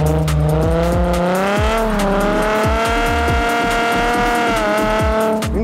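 A Nissan 350Z drifts on good tyres, its engine revving hard with rising and falling pitch while tyres squeal continuously, loud and close throughout with no talking.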